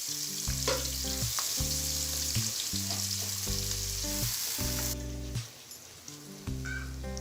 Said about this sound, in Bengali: এখন এখানে আমি দিয়ে দিচ্ছি পেঁয়াজ মরিচ